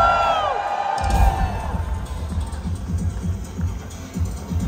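Crowd at a live metal concert in Green Bay cheering, whooping and yelling in a dense, steady roar that carries on for several seconds after a brief high vocal phrase fades out.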